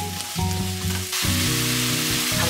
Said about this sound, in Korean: 팬에 기름 두르고 양파를 볶다가